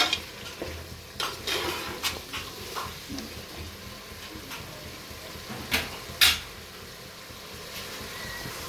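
Tomatoes with salt are sautéed and stirred in a pan for chicken biryani; a spoon clinks and scrapes at irregular intervals over a quiet sizzle, fading after the first few seconds.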